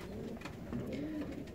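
Saxon Swallow fancy pigeons coo softly and steadily at close range, with low rolling calls running continuously over a quiet background.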